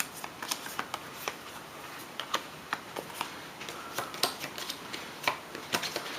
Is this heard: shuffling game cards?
yes